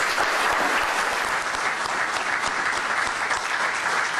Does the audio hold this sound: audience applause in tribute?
yes